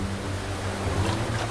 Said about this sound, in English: The gushing waterfall further upstream seems insurmountable.